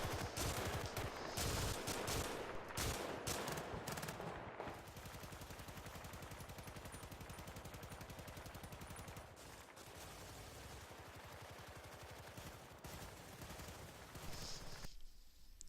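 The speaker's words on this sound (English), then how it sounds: "So notice, when I burst fire, the gun likes to move up, and then when I let off the trigger, it likes to move down again." Gunfire in a first-person war game, fired in repeated short bursts of rapid shots, loud and close, with brief gaps between bursts.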